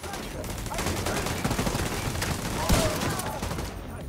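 Turret gunfire in The Division 2 rattles as a rapid, continuous burst of shots with a sharper crack near the end, moderately loud within a busy game mix.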